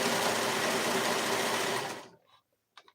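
A sewing machine stitching a seam on a cardigan runs loud and steady at close range for about two seconds, then stops abruptly, leaving a few faint handling clicks.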